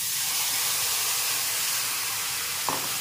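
Mustard gravy for steamed hilsa coming to a boil in a pan, a steady close hissing, sizzling bubble noise with a small clink near the end.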